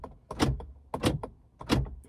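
A Honda Pilot car door is worked three times in a row, each a short clunking latch-and-handle burst evenly spaced about two-thirds of a second apart, close and fairly loud with quiet gaps between.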